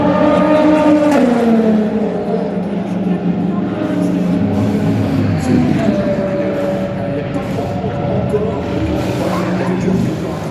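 At Le Mans qualifying, a GT3 race car's engine roars continuously and loudly, its pitch rising and falling through gear changes while a commentator talks over it.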